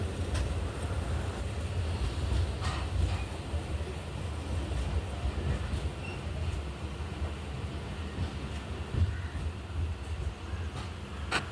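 The Himsagar Express pulls out of Nagercoil Junction with a steady, loud rumble and a broad, continuous rolling noise for the whole stretch. No one speaks.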